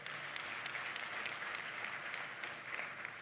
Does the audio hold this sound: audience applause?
yes